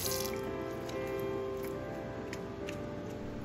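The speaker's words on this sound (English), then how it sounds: "giving it a quick rinse with water first and then covering it with soap" A Roborock Q Revo vacuum roller is rinsed with water in a sink, making a soft, continuous trickle with faint dripping and light ticks. The sound is quiet and close.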